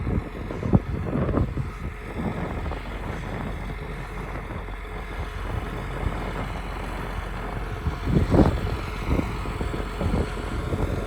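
Steady wind buffets the microphone in an open field beside a John Deere 8370 tractor with a Great Plains harrow, a low rumbling roar with occasional stronger gusts throughout, no voices heard.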